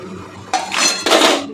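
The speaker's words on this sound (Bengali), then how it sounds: "মশলাটা ভালো করে কষানো হয়ে গেছে, এরপর দিয়ে দেবো চিকেনটা।" Chicken going into a pan of well-fried spices, marked by two loud metallic clanks and scrapes of a utensil against the pan, each followed by a rough rush of noise, close by.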